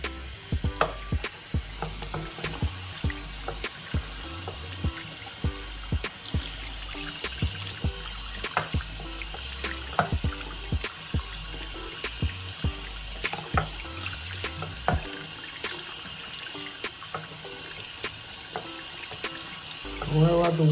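Running water from a tap during a hair brush wash for 360 waves, a steady trickling wash with soft clicks and taps of the brush throughout, faint voice underneath.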